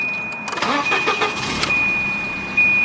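A 1990 Volvo 240 DL engine cranks briefly and catches, settling into a steady, close idle with a faint high whine running throughout.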